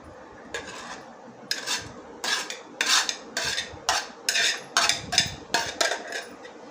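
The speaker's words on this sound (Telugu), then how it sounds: "చూడండి ఈ విధంగా మనం సన్నగా కట్ చేసుకోవాలి అన్నిటినీ కట్ చేసుకుందామండి" A knife cuts bitter gourd into thin slices, giving about ten crisp, evenly spaced chops against a board. The strokes are close and clear, with no talking.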